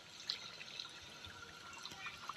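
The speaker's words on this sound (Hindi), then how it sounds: "यहाँ पर स्टेशन पर देखिए पानी गिर रहा है भाई" Water falling and dripping at a railway station, a steady wash of splashing with scattered brighter drips, continuous and fairly quiet, with no talk over it.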